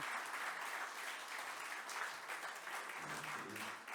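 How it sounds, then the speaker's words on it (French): Applause for children at a district council meeting, a dense and steady clapping from a roomful of people lasting the whole stretch, moderately distant and even in loudness. "les applaudir bien fort"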